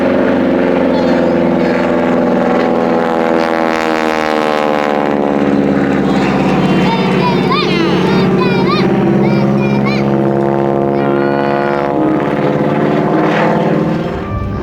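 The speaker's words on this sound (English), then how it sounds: "The sound of that engine, that propeller bouncing off the hardwood trees out there." Vintage WWI/WWII-era airplane at an air show in Fauquier County, Virginia: a loud, steady piston engine drone with propeller thrum, continuous and close, its tone echoing off hardwood trees, with faint voices underneath.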